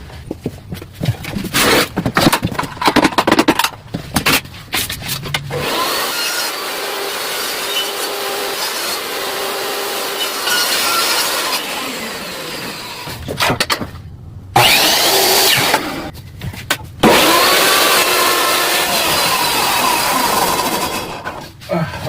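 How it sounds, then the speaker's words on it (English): A table saw shaves the edge of a wooden door for a furnace and laundry French door, the blade whining loudly through long sustained cuts broken by brief pauses, with faint bumps of handling between passes. "But first we have to shave this, right? Shave on the table saw."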